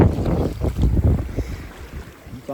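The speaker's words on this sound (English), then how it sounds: "I just can't take getting beat up by this wind anymore today." Strong wind buffets a fishing boat out on Texas's Lake Lavon, heavy gusty rumbling against the microphone with choppy water below, loud and close, alone without talk.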